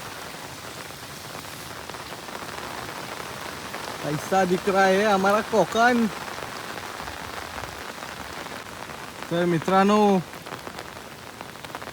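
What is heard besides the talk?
rain falling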